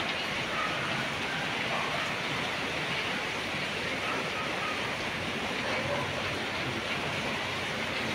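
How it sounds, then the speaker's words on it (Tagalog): Steady rain pours under a dark sky with no wind, a continuous broadband hiss that holds even and unbroken throughout, with no voices over it. "Ayan, maulan na."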